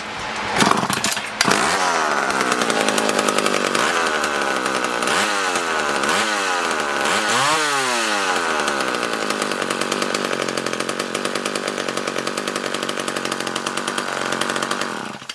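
A vintage McCulloch Mac 1-10 two-stroke chainsaw, low-hour, sputters to life, then revs up and down several times before settling into a steady, buzzing high-pitched run nearby.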